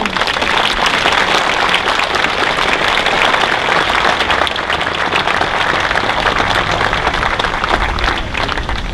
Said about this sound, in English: we need a round of applause for our servicemen